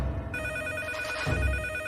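A phone ringtone plays steadily and fairly loud over a muffled, rumbling background, continuing without a break.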